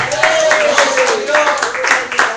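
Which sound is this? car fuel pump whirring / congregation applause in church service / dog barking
congregation applause in church service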